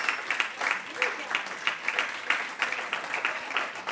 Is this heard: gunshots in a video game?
no